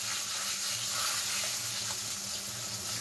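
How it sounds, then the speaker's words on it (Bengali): Steady, hissing sizzle of pointed gourd (potol) frying in oil with turmeric and salt, a continuous bright crackle without pauses or speech. "পটলগুলো আজকে কেমন ভাজি হবে, আমি তেলের মধ্যে হলুদ নুন দিয়ে দিয়েছি"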